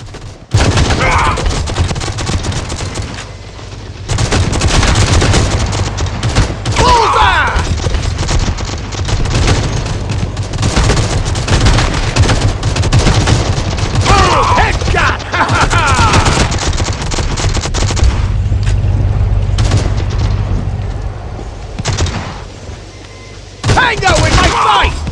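Gunfire and explosions in a free-to-play first-person shooter video game: loud, dense bursts of rapid shots and booms over a pounding soundtrack, with short pauses and a narrating voice between the bursts.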